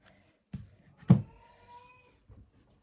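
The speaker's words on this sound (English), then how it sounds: "That's one of my cats really being a little extra right now." A house cat gives a couple of short, close meows with a slight drawn-out tone, separated by quiet pauses and faint room noise.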